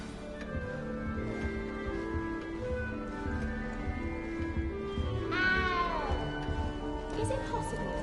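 A cat meows in the Hogwarts Legacy video game, one clear rising-and-falling meow past the midpoint over background game music and voices talking.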